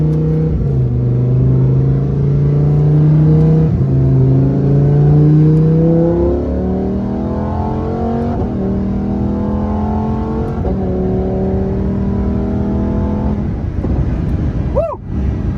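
A 2019 Lamborghini Huracan Performante accelerating at partial throttle, its engine note climbing steadily through several gear changes, loud and close from inside the cabin, ending with a brief tire or engine chirp.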